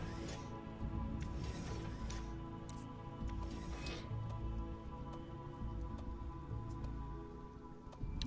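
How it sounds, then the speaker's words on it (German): Rain patters softly in the survival video game Sheltered, a faint, steady sprinkle of drops with occasional small clicks and a low hum, quiet and continuous. "während es regnet und unsere Regenfässer mit Regen gefüllt werden"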